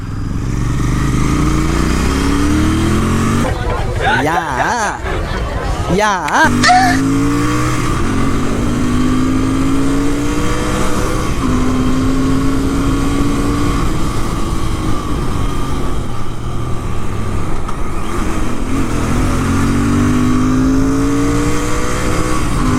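A Royal Enfield GT 650 motorcycle running on E20 petrol accelerates in first gear, its engine loud and close with repeated rising revs over a steady roar, and no one speaking.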